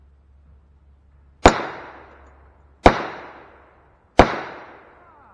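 Three sharp gunshots at a shooting range, 212 grain hollow point cast hand loads, each a loud crack with a quick decaying ring, spaced about 1.4 seconds apart.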